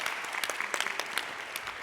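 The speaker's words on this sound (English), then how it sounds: "Big applause," Brief burst of audience applause after a startup pitch at a tech conference, many hands clapping with a few sharper individual claps standing out, filling the room for under two seconds.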